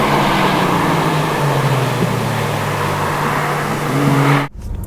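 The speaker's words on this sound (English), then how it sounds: "when you hit sport, it opens 2 flaps in the exhaust system, piping more of that glorious V12 engine note into the cabin" A 2017 BMW M760Li xDrive's V12 drones steadily in sport mode with its exhaust flaps open, heard from the cabin as an even, fairly loud engine note that cuts off abruptly near the end.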